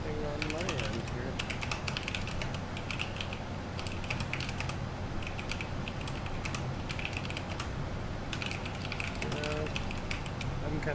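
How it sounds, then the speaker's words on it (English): Computer keys are tapped in a continuous clatter, low in level and heard as though picked up through someone else's microphone, with faint mechanical clicks and creaks underneath. "I can hear Meg typing."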